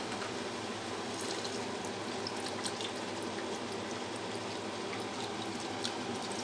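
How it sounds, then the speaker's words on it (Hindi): Milk poured into a cooking pot for gajrela, a carrot and milk pudding, a continuous soft liquid rush with faint bubbling, steady and close throughout, no voices. "दो लीटर हम दूध डाल लेंगे।"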